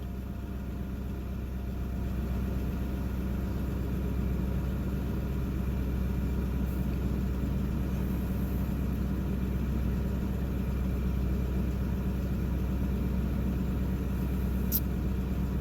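A 2009 Ford F250 with a 6.4 Powerstroke diesel V8 idles at about 1,000 rpm, a steady, even low rumble with no misfires, continuous and unbroken throughout.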